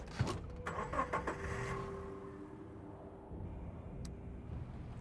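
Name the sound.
car engine starting in the video game Surviving the Aftermath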